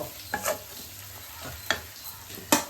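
Onions and ginger garlic paste are stirred in a kadai, and a low, steady sizzle is punctuated by four or five distinct spatula scrapes at uneven intervals, close to the listener.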